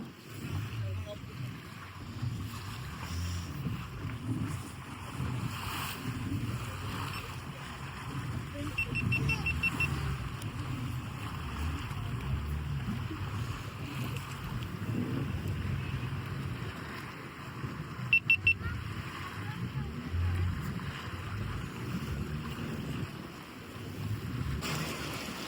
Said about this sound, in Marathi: आता आपली बोट जाणार आहे 2 खडकाच्या मध्ये.